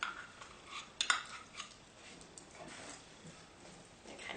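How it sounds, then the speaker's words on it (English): Pre-sautéed onions get mixed into funeral potatoes in CampMaid camp cookware outdoors, with soft scraping and a few sharp clinks of a utensil against the pot, quiet and close. "So we're just going to mix all of this together."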